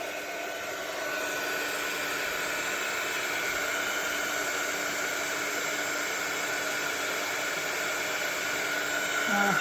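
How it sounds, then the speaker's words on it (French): A heat embossing gun runs at full blast over embossing powder on a handmade pink cottage card, giving a loud, steady, unbroken hiss and blowing roar that lasts the whole stretch. "Mon pistolet, donc on va faire un petit peu de bruit. Là, on va le faire chauffer."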